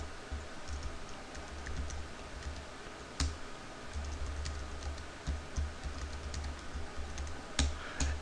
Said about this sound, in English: I'm going to type something here.